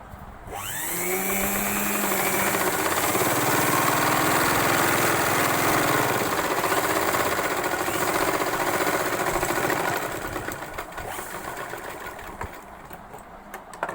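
Sewing machine running steadily while stitching a straight seam on a boat neck blouse, a loud continuous whirring hum that starts after a brief pause and then eases slightly toward the end, with no talking.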